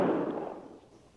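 A single rifle volley fired on command at Fort Laramie, a sharp loud crack with a rolling echo that decays over about a second, with no talk.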